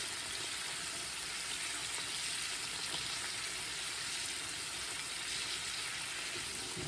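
Pork ribs frying in a pan of hot oil give a steady, close, dense sizzle with crackling spatter that holds level the whole time, with no voices over it.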